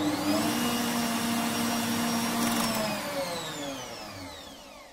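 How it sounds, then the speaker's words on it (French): Bosch MUM5 food processor switched on at maximum speed, a loud steady motor whine with a brief high sweep that holds for several seconds and then tapers slightly, close and with no talk. "lorsque je vais mettre en route l'appareil en vitesse maximale, pendant une petite fraction de seconde, l'appareil va tourner lentement avant de passer directement en vitesse maximale"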